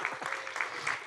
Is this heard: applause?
yes